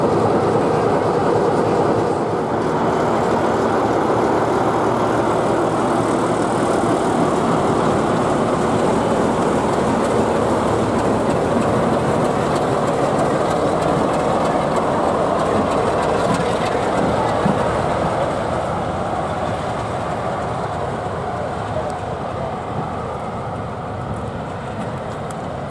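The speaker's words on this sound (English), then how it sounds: "a pair of 47s, Kenny Cockburn and Albury Festival are on the move" A pair of Class 47 diesel locomotives on the move at a diesel gala, giving a steady, loud rumble of rolling stock and engine throughout with faint clickety-clack, fading slightly toward the end.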